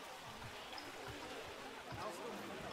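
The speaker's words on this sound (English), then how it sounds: "Also some rocks with a waterfall." A waterfall pours over rocks in a zoo-building game habitat for dholes, a steady faint rushing wash that continues throughout with no break.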